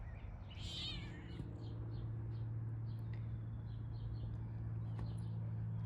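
A small cat calls out with a few faint meows over a steady low hum from a porch, the cries rising briefly near the start and then fading into quieter, scattered mews.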